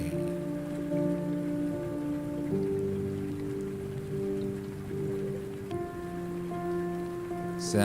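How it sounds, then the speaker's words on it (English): Continuous rainfall makes an even, moderate hiss under layered drawn-out musical tones, with no talking and the texture unchanged to the end. "Sound of the rain."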